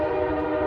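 A passing train sounds its horn in a loud, sustained harmonic blast, with low rumble beneath, heard briefly for under a second.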